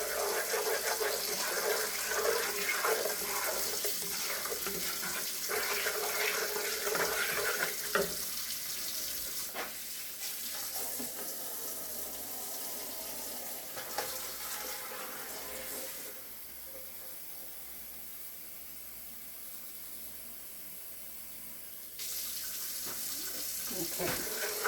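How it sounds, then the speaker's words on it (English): Hot water runs steadily from a kitchen tap during meal prep, a broad rushing hiss that thins and drops in level partway through before swelling again. "get my hot water ready."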